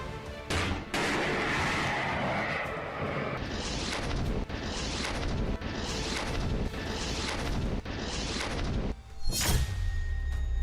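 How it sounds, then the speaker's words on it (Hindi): An Indian man-portable fire-and-forget anti-tank guided missile fires during a test, with a sustained loud roaring rush broken by repeated sharp blasts and ending in a final burst, heard with no talk over it. "यह हिंदुस्तान की फायर एंड फॉरगेट यानी दागो और भूल जाओ man portable anti tank guided missile है। इसकी टेस्टिंग हो गई है।"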